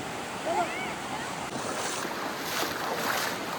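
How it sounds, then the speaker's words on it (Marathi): Sea waves washing onto a beach near sunset, a steady broadband wash with wind buffeting the microphone and a faint voice at times. "लोन वॉक आणि लाटांचा आवाज."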